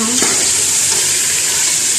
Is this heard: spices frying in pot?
yes